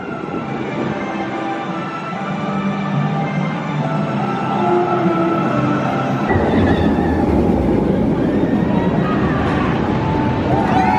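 Velocicoaster roller coaster at Universal Islands of Adventure, a steady rumbling, rushing ride noise with rattling train clatter that swells louder about halfway through, with no talk over it.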